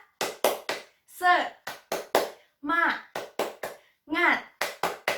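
Schoolchildren in an elementary classroom do the 'tepuk semangat' clapping chant: sharp rhythmic hand claps in quick groups, broken up by loud shouted chant syllables from the class.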